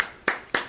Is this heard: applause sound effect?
yes